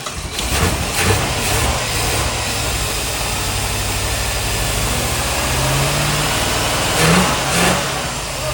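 A 49-year-old Ford Thunderbird with a big block engine revs loudly and close up, a heavy rumbling idle that swells with throttle blips near the start and again toward the end.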